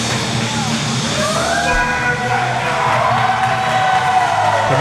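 A pro wrestling tag-team crowd roars and cheers wildly in a dense, continuous wall of voices and whoops that holds at a steady loud level throughout.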